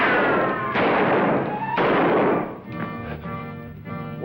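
Gunshots in a western setting: a few loud, sharp cracks, each trailing into a long rumbling echo, followed by a tail of softer clattering reports. Nobody speaks.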